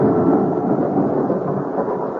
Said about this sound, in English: The night of the storm. Such a storm.